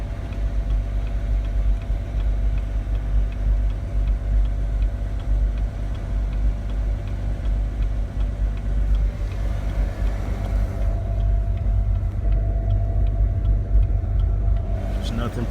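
A 2016 Camaro engine idling rough and fluctuating, a continuous low rumble with ticking and slight wavering under occasional talk, the tone shifting toward the end.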